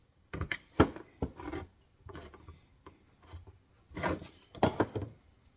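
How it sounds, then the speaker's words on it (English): A screwdriver pries and scrapes up bent metal on an MB 550 coyote and fox trap during a repair, making irregular short metallic scrapes and clicks in bursts, close and moderately loud. "I'll take my screwdriver and go in there. Try and pull that up."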